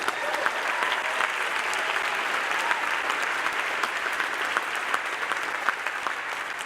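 Sustained applause from a large crowd at an awards ceremony, dense and steady throughout with crisp individual claps poking through the wash.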